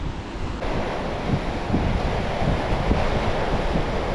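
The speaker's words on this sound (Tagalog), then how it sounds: "Grabe sa yung alon." Open-sea waves surge and wash in a continuous loud roar from a boat, heavily mixed with wind buffeting the microphone and no voices.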